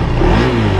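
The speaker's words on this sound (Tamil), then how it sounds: "அண்டர்பெல்லி எக்ஸாஸ்ட் சவுண்ட் எப்படி இருக்குன்னு ஃபீல் பண்ணுங்கள்" Underbelly exhaust of a 2025 Adv390 scooter: a close, loud, throaty engine drone with a steady low rumble, caught in a brief burst.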